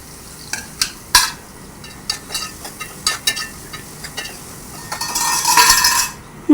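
Onions frying in hot oil in a pan on a stove for an Andhra-style chicken curry, with repeated scraping stirs of a spoon across the pan and a rising sizzle near the end, close and without talk.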